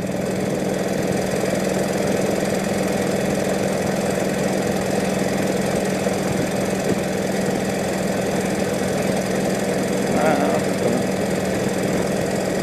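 1948 Indian Chief motorcycle engine running, a steady, loud, rumbling idle with a low throbbing drone that persists throughout.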